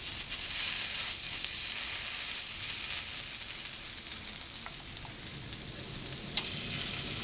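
Zucchini vegetable pancakes fry on a big griddle, giving a steady, dense sizzle that runs unbroken throughout with a few small pops and crackles and no voices.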